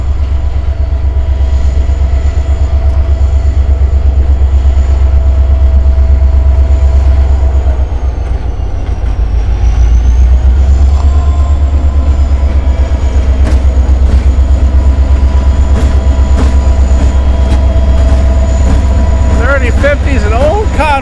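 Freight train led by an old Conrail locomotive, unit 3050, coupled with a slug, rolls past trackside at Coffey's Cliff, with a steady loud rumble and engine drone, a shifting horn-like tone and faint wheel squeal near the end.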